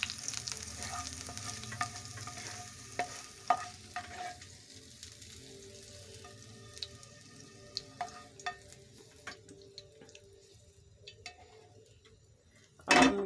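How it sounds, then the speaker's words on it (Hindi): Carrots and capsicum soften in oil in a pan at home while pizza toppings are prepared, giving a steady low sizzle with scattered stirring clicks and scrapes, and a sharp louder clatter right at the end. "इनको भी सॉफ्ट कर लेते हैं थोड़ी देर के लिए"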